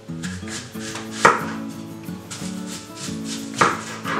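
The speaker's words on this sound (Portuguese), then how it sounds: "façam fatias de 3 milímetros, mais ou menos" Fresh, washed fruit being sliced by knife into roughly 3 mm slices for drying, a quick, steady run of close chopping taps on a board, with two sharper, louder strikes standing out.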